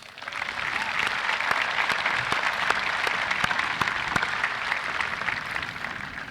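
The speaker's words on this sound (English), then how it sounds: "Let's give Solomon, Dylan, Maya, Colin, and Kiana one more round of applause." A large crowd applauds student speakers at a high school commencement, a dense, steady roar of clapping that swells in quickly and holds evenly for several seconds, with sharper individual claps poking through, heard from a slight distance.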